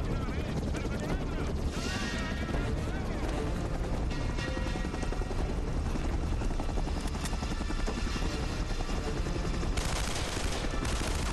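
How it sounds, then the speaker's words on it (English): In the Uncharted: Drake's Fortune video game, a helicopter drones loudly and continuously while bursts of gunfire crackle over it, with someone talking now and then over the din. "Oh, Elena's on the helicopter too."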